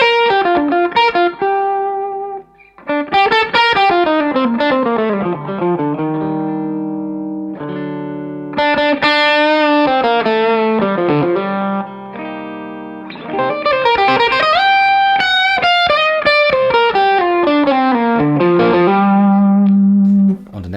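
Electric guitar on the neck pickup through a JAM Pedals Double Dreamer overdrive plays a lively riff of picked notes and chords, gritty and sustained, loud and close with no talking.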